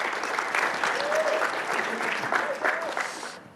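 A conference audience gives a speaker steady applause. The clapping is moderately loud and fairly close, and a few faint voices sound under it before it tapers off.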